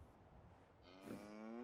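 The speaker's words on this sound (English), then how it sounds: "Oh, moo yourself." A cow moos once in a Fallout-style settlement-building game, a rising drawn-out call that swells toward the end after a brief quiet stretch.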